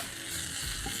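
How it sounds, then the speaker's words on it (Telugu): Spinach frying in a pan with green chillies, a steady close hiss and sizzle with light stirring scrapes, no voices. "ఇది కొంచెం పచ్చి వాసన పోయేంత వరకు మనం పాలకూరని వేయించుకోవాలి"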